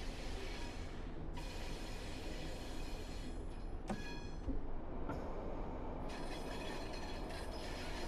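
A Pendolino train in the video game Train Sim World 6 runs with a continuous rumbling roar, its wheels and rails giving a steady rolling noise broken by a few brief shifts in tone, with no talking.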